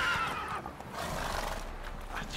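Horse sounds from riding in The Witcher 3 video game: a faint neigh with the soft, continuous patter of hooves underneath, quiet and somewhat distant throughout.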